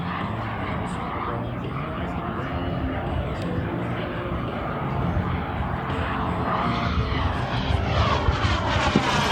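A BVM 1:5 scale L-39 model jet flying a gear-down landing pass produces a steady turbine roar that swells slightly as it nears, with people talking over it.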